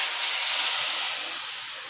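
Tempering spices sizzle in hot oil, poured as a tadka over cooked dal, giving a loud, steady high hiss that fades slightly toward the end, with no talking.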